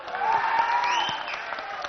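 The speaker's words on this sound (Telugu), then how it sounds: "మీ ఈరోజు మీ అభిమానం, ఈ చప్పట్లు, ఈ ప్రేమ, ఇవన్నీ కలిసి ఒక్క పేరు చెప్తాయి, శోభన్ బాబు" An audience at a golden jubilee celebration for a classic film applauds. Dense clapping runs through the whole short stretch under a sustained musical tone, with no speech.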